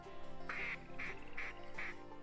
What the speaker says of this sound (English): Looks like we have a nice flock of ducks coming in. I believe they're mallard and gadwall.